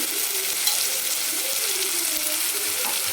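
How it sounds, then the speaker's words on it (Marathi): Vegetables sizzle and fry steadily in a hot pan for a dill greens (shepu) dish, with occasional stirring; the frying noise is close and continuous, with no talking. "आणि छान परतून घेऊ"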